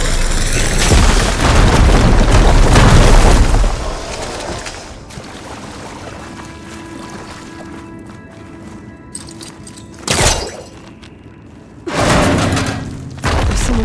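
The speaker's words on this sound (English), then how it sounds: "Should be able to blow up that fire beam." In Horizon Forbidden West, a fire beam is blown up with a heavy booming blast and rumbling debris, followed by quieter ambience and two later thudding impacts.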